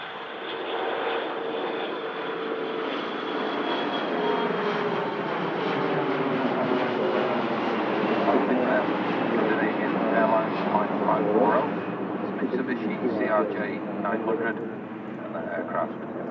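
A CRJ jet taxiing at Manchester Airport, its steady, loud engine roar and whine continuing throughout with a slow rise and fall, heard alone.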